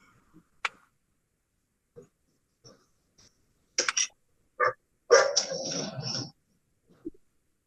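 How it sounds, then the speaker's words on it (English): Dogs give a few scattered barks nearby, a couple of short sharp ones followed by a longer rough bark, with quiet gaps between. "Dogs."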